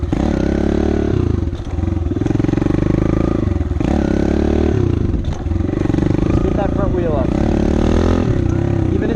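A motorcycle engine revs loud and close during wheelie throttle-control practice, the throttle rising and falling in repeated surges with brief dips between pulls.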